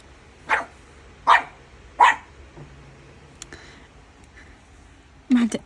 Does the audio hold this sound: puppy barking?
yes